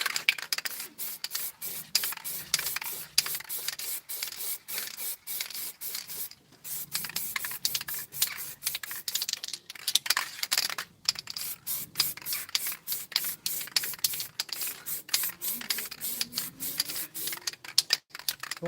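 An aerosol can sprays primer onto a TARDIS model in short, repeated hissing bursts, close and steady for the whole stretch, with no voices.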